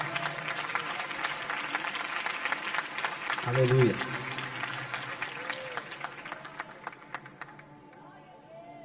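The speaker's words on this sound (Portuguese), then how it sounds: "glorifiquem a Deus com suas palmas" A church congregation at a jubilee service applauds in praise, a sustained wash of many hands clapping that gradually fades, with a voice calling out briefly over it.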